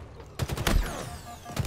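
Halo Infinite gunfire bursts in after a quiet start, a loud rapid volley of shots followed by fading echoes, with another short burst at the end.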